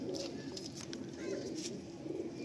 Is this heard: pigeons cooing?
yes